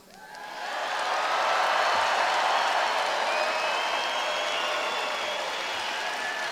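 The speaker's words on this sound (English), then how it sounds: "Can we give a big round of applause for our veterans?" A large crowd at a Donald Trump campaign rally in Manchester, New Hampshire, in 2016 breaks into applause for veterans, swelling quickly into a loud, sustained roar of clapping and cheering with a few whistles over the top.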